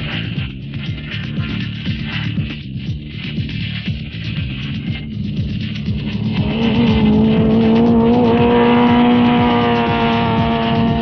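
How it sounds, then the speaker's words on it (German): A Honda Integra Type R DC2 N1-class race car roars around a track, engine revving high and shifting, with the pitch climbing as it accelerates past. "Altfried Heger startet zum ersten Versuch mit dem Integra Type R."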